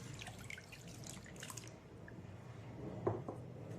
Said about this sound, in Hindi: इस खट्टे को हम छान लेते हैं